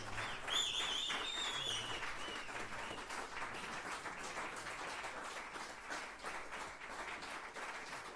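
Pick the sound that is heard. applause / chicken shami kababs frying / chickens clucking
applause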